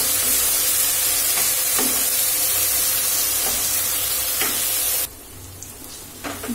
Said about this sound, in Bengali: এবার চিংড়ি মাছটা দিয়ে দিচ্ছি। ভালো করে কষাতে হবে।